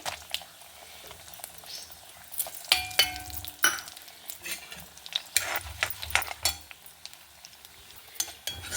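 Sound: tempering spices sizzling in oil: chana dal, urad dal, cumin, mustard

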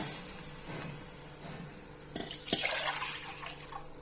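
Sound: water being poured into a pot

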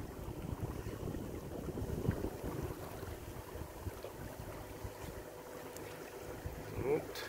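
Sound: yacht sailing on the water

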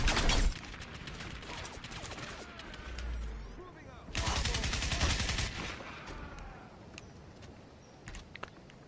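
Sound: assault rifle gunfire in the video game Crysis

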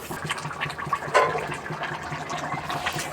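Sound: bubbling of boiling ghugni curry in a pot

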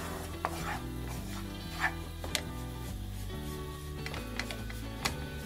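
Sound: stirring flour roasting in oil in a pot

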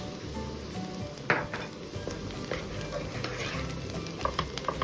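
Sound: sautéing onions with tomato and pepper paste in pot

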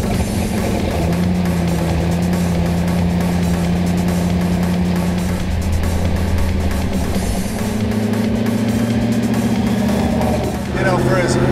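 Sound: classic truck engine and exhaust running

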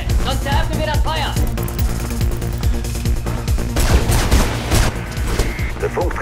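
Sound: gunfire in a video game

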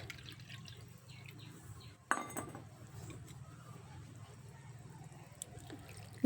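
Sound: water being poured into a cooking pot

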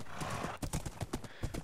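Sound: horse galloping hooves in Minecraft video game

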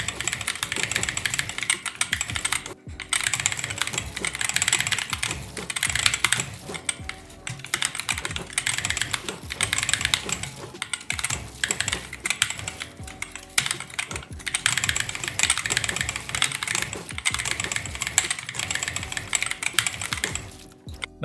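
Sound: typing on GK61 keyboard with optical yellow switches

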